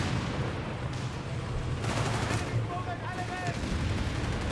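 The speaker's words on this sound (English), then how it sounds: "another Strutter's barrage, another 6 rockets" Rocket artillery barrage in Company of Heroes 3, a real-time strategy game, six rockets in the volley, heard as a low rumbling roar with bursts and impacts under the game's ambient battle noise.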